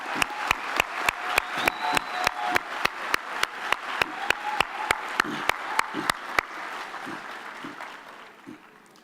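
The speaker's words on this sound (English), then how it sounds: "Another round of applause for all of them, ladies and gentlemen." A crowd of family and guests claps for graduates at a university autumn graduation ceremony, sustained applause beneath a string of sharp, evenly spaced percussive hits that stop partway through as the clapping fades.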